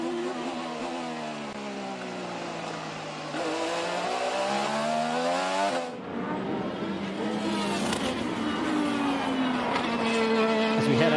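An IndyCar race car on a qualifying lap at Monterey, its high engine pitch rising and falling through gear changes and corners, loud and close, with a commentator talking over it.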